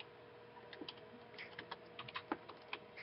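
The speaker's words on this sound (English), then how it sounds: "So I'm just going to use my number keys." Fingers tapping the number keys on a computer keyboard while playing modded Minecraft, a quiet irregular run of soft clicks heard alone.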